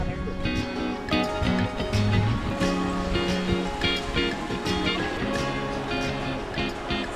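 Ocean surf at 1,000 Steps Beach on Bonaire, heard as a steady, fairly loud wash of breaking waves that continues without a break for the whole stretch.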